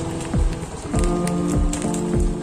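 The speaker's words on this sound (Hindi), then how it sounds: "ये बर्फ के ओले गिर रहे हैं," Hailstones pelt down during a night storm on a road between Rishikesh and Dehradun, a loud constant clatter and drumming close by, with brief thumping impacts recurring through it.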